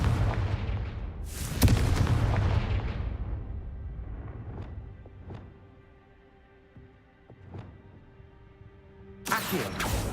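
Confringo fire spell from the game Hogwarts Legacy: two heavy explosive blasts, one early and one near the end, each with a booming burst and a rumbling tail, between quieter resonant tones.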